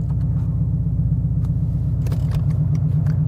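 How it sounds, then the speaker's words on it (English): Steady low road rumble of a car being driven, a constant engine and tyre drone filling the whole stretch, with a few faint clicks and rattles inside the cabin and no talking. "So let's go for a drive."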